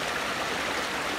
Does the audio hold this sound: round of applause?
no